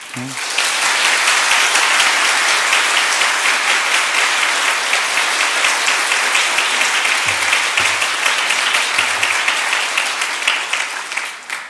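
A congregation in a church claps vigorously to welcome a speaker, a dense, steady wave of applause filling the whole stretch with a few faint voices underneath.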